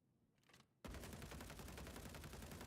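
Rapid automatic fire from a bullpup rifle in the space game Star Citizen, a faint click followed by a sudden, loud, continuous stream of closely spaced shots.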